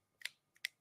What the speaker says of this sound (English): Finger snaps for that one.